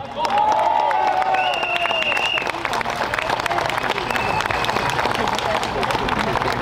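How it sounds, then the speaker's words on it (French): Audience at a political rally applauding, dense sustained clapping mixed with crowd noise and some cheering, loud and steady throughout with voices among it. "On peut les applaudir."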